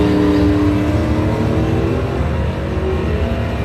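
Drag race cars, a Mopar running against a 1971 Camaro, roar down the strip in a loud sustained engine blast with rising pitch, heard without speech.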